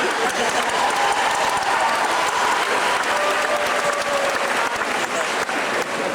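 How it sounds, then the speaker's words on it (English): At a 2002 master's graduation ceremony, the audience claps loudly and steadily for several seconds, a dense crowd of hands with some voices mixed in underneath. "That deserves another clap."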